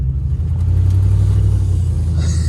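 Deep, steady engine rumble from a 1988 Range Rover Classic running with no exhaust, loud and close, holding a throbbing low idle throughout with a slight lift near the end.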